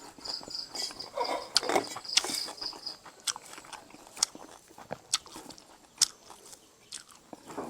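Crunchy biting and chewing of rice with fried insects in an Akha meal, close and quiet, with irregular crisp crunches and soft mouth sounds spread across several seconds and no talking.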